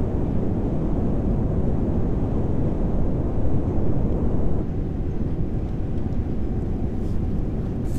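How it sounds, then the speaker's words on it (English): A rocket radial engine test in Kerbal Space Program gives a loud, continuous low roar of engine rumble that holds steady throughout and eases slightly in the second half. "Some more radial engine testing."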